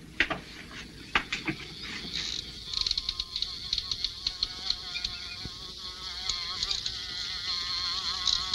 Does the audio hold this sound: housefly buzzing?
yes